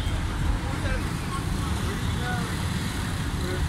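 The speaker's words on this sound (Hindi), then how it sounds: "अभी उगी का जो है ट्रैफिक चालू हो गया है" Road traffic at a busy crossroads near Doraha, a dense, continuous roadway rumble and hiss of passing vehicles, with people talking in the background.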